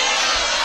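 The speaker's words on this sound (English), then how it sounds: "Crowd doesn't sound too happy." Stadium crowd at a UFC event reacting to a unanimous judges' decision, a loud, dense wash of voices filling the space with no single voice standing out.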